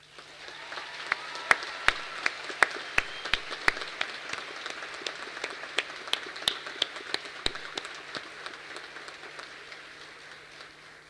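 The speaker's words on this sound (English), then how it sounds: "with a hearty round of applause" Graduates and guests at a university graduation ceremony clapping in a sparse hall, scattered individual claps with sharp distinct hits rather than a dense roar, slowly tapering off.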